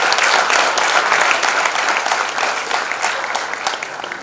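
An audience at a foundation launch event gives an enthusiastic round of applause to welcome dignitaries, dense sustained clapping that gradually softens.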